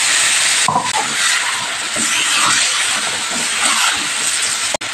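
Tomato, ginger and garlic paste hits a hot pan for an egg, soybean and potato curry, bursting into a loud, steady sizzle that holds without a break for several seconds.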